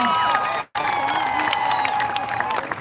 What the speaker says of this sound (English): So give a big, big applause to all of you because you are here today